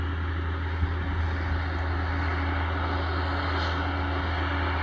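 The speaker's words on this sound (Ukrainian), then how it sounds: "Наш трактор." A tractor engine drones steadily and loudly with a constant low hum and no breaks, close by, during amaranth sowing.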